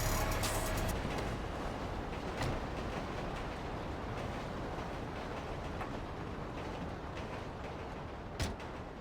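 A train rolls past on the tracks at Elysian Island in Grand Theft Auto V, a steady, loud rumble of wheels and wagons that fades slowly, with a sharp clank near the end.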